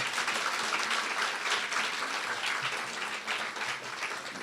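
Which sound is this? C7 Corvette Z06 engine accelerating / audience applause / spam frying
audience applause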